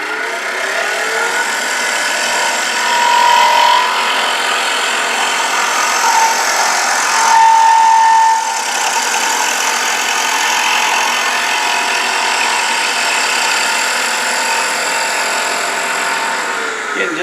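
A wood lathe spins a turning while a skew chisel makes planing cuts with the tool rest set high, a steady loud whirring hiss with faint whining tones and slight swells in loudness, no voices over it.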